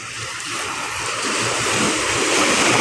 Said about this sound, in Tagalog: Ngayon po yung alon, no?